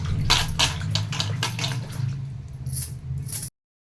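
Cut snake gourd pieces being washed by hand in a bowl of water, with splashing and sloshing bursts that run steadily for about three seconds, close and moderately loud, then stop abruptly.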